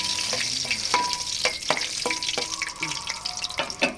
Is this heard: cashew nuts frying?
yes